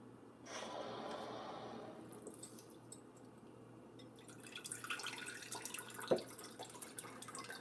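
Water runs into a water filter pitcher indoors, a steady trickling fill followed by light drips and handling clatter, with one sharp clink; close, no talk.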